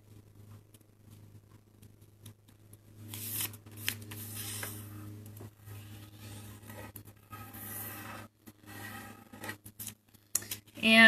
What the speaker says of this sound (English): fold it in half again